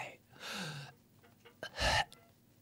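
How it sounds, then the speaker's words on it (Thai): A baby's final gasping breath in a Thai audio drama, a short breathy gasp followed by a louder, sharper exhale, heard close and alone. "พร้อมกับลมหายใจ เฮือกสุดท้าย ที่หลุดลอยไป"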